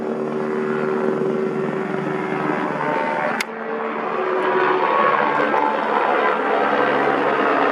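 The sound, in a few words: police helicopter flying low over the house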